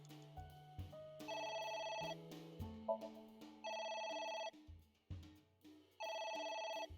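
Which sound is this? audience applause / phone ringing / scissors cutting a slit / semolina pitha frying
phone ringing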